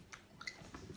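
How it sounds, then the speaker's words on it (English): A weird snack being chewed, soft close crunches and wet squishy bites repeating irregularly over one second, faint and alone without talk. "Still chewing."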